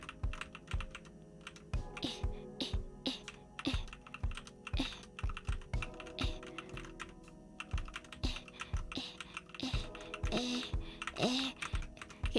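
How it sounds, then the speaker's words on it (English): Computer keyboard keys clack steadily in quick, irregular bursts of typing, close and fairly loud, with no voices over them. "Can you guys hear me like clacking my keys?"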